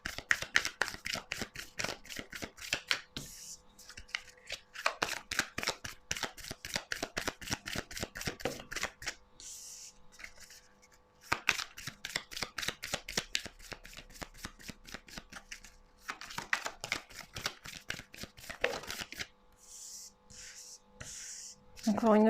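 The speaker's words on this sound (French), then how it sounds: "Pourriez-vous faire sauter les cartes s'il vous plaît?" Tarot cards are shuffled over and over in soft, rapid, riffling bursts of close flicks, separated by short pauses, fairly quiet, with a voice heard now and then.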